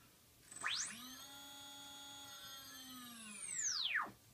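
An RC plane's electric motor winds up to a high whine during a throttle test, holds steady for a few seconds, then spins back down, faint and alone.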